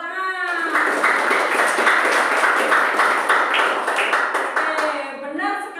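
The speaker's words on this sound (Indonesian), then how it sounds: "Bagus sekali, tepuk tangan." A classroom group of students clapping their hands together, a steady dense patter of many claps lasting several seconds at moderate loudness, with a voice heard faintly at the start and end.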